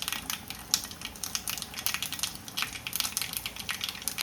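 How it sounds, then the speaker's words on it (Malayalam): Mustard seeds crackle and pop in hot coconut oil in a pan for a drumstick leaf and jackfruit seed curry, a dense run of quick, sharp, close pops that continues throughout. "ചട്ടിയിലേക്ക് വെളിച്ചെണ്ണ ഒഴിച്ചു കൊടുത്തിട്ടുണ്ട്. ഇനി അത് നന്നായിട്ട് ചൂടായിട്ട് വരുമ്പോൾ കടുക് ഇട്ടിട്ടൊന്ന് പൊട്ടിച്ചെടുക്കുന്നുണ്ട്"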